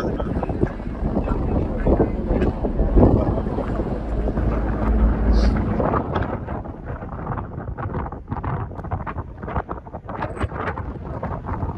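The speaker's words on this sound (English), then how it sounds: "It's a brisk 19 degrees out here, up on the observation deck, and quite windy." Strong wind buffets the microphone on a ship's observation deck entering Namsos fjord, a loud rumbling, gusty roar that continues throughout with a brief spoken remark mixed in.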